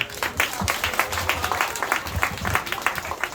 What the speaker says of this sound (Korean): 박수로 감사드리겠습니다